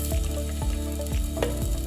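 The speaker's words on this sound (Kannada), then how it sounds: "2 ಸ್ಪೂನ್ ತುಪ್ಪ ಹಾಕಿದ್ದೀನಿ" Ghee sizzling in a chicken biryani pot, a close, steady frying hiss with rhythmic dripping plops and crackles, no voices.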